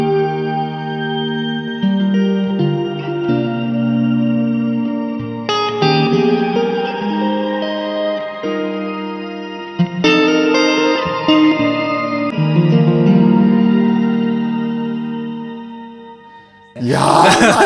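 An electric guitar played through a Zoom multi-effects stomp on a spatial reverb patch rings out in sustained, layered chords and notes with long washy tails, loud and alone, with a sharp burst of noise at the very end.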